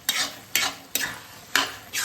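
A spoon scrapes and stirs through a pan of bottle gourd and potato curry with tomato and cumin tempering, making five rhythmic, close sweeping strokes over a soft sizzle.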